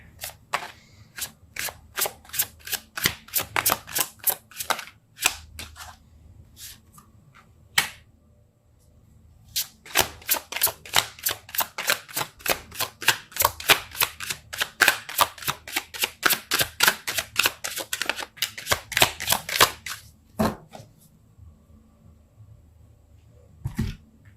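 Tarot cards are shuffled by hand in rapid bursts of crisp, close riffling and snapping, many quick clicks in uneven runs with short pauses, and no talking.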